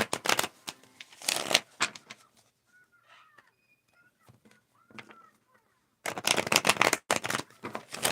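Tarot cards being shuffled by hand, with bursts of rapid riffling clicks at the start and again at the end, separated by quiet stretches with faint distant chirps.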